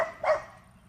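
A single short dog bark sounds at a moderate distance over a quiet background, and nothing else stands out.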